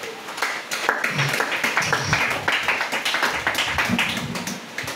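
Congregation clapping in rhythm during a Sunday church worship service, steady dense claps over a continuous murmur of voices and music throughout.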